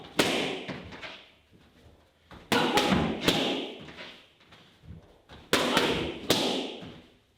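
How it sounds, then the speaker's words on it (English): A Muay Thai fighter throws a right hand, left hook and right head kick in combination: three quick bursts of loud, close thuds and smacks, each cluster separated by short pauses. "right hand, left hook, right head kick"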